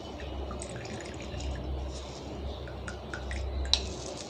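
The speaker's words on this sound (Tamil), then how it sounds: "இப்போ இந்த மாதிரி எண்ணெயை மட்டும் நல்லா அப்படி ஃபில்ட்ரு பண்ணிவிடுங்க." Homemade henna hair oil, made with coconut oil, being strained through a filter: faint, close drips and small liquid trickles over a low hum, with a sharper drop near the end and no talking.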